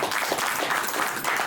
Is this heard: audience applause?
yes